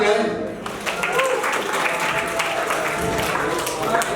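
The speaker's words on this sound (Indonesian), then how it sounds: "Boleh sekali tepuk tangan kan?" Audience clapping fills a school seminar hall on videography, a steady crowd patter running the whole few seconds while a voice speaks over it.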